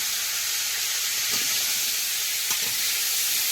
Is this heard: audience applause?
no